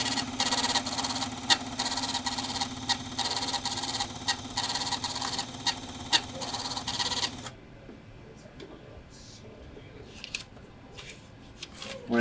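Livestock scale report printer running for about seven seconds, a dense rapid buzzing chatter of print-head strokes that stops abruptly and leaves quiet room noise with small clicks.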